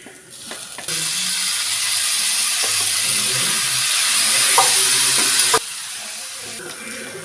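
Cooked beef dropped into a hot pan for a Kerala toddy shop style beef fry, bursting into a loud, steady sizzle that holds for several seconds before cutting back to quieter background noise.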